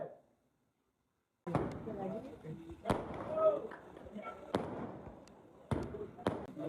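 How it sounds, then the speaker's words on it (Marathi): Firecrackers bursting at a Shivaji Jayanti celebration, about six sharp loud bangs at irregular intervals, each followed by crackling echo, with voices talking in between. "बाबू काका फटाके फोडून राहिले"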